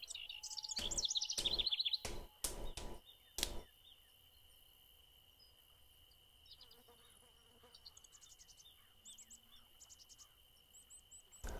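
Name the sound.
birds chirping in the video game Fishing Planet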